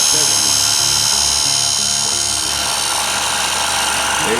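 A sharpening machine grinding with a diamond wheel running under water, a loud continuous whirring hum with a steady high-pitched hiss, unbroken throughout with faint low rhythmic pulsing.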